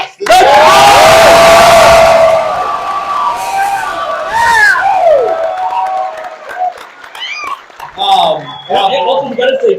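A convention panel audience in a packed room cheers and whoops loudly, a roaring burst that peaks early and then thins into scattered shouts and voices.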